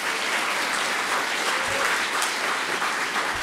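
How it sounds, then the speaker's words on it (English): An audience applauds a debate panel at a city debate on building code regulations, producing close, steady, full clapping that holds at an even level throughout. "Let's give them a round of applause."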